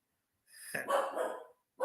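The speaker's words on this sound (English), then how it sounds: "2 dogs are barking." Two dogs barking in a home setting, a loud burst of rough, agitated barks lasting about a second, then a fresh bark starting right after a short pause.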